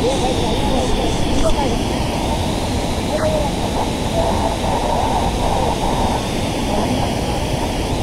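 A steady, dense roar of rushing water from Kalu waterfall at Malshej Ghat, Maharashtra, continuing evenly without a break.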